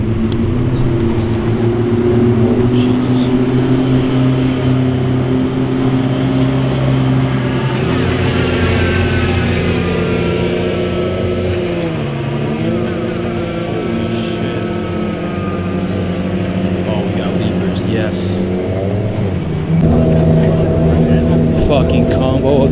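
A McLaren P1 GTR runs at Goodwood with a loud, steady engine drone that holds throughout, a gear change partway through and a rise in pitch near the end, with people talking over it.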